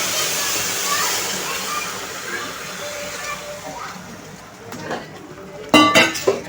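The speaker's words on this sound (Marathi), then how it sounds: "जे पाणी आपण गरम केलं होतं ते आता आपण टाकून घेत आहोत" Hot water poured into roasted semolina in a pan while making upma, a broad hissing gush that slowly fades, followed by a few sharp clinks of a utensil against the pan near the end.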